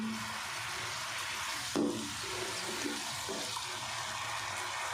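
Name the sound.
finely chopped onions added to hot pan, frying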